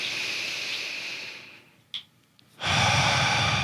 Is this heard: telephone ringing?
no